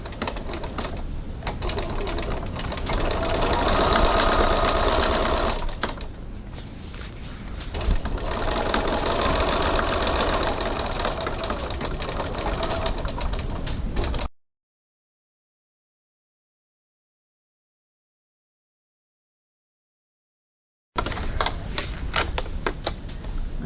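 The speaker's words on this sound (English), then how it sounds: "Just going to stitch on the diagonal." A sewing machine stitches fabric along a diagonal at a 3.4 stitch length, a fast mechanical whirring hum close by in two long runs with a short pause between, then a stretch of silence before it starts again.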